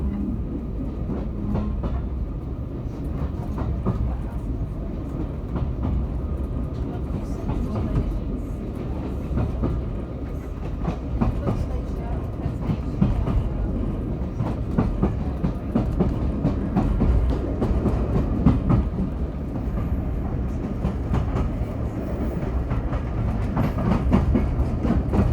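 Heritage railway train rolling past sidings, a steady low rumble with continuous wheel clatter and rail noise throughout, close and even in loudness.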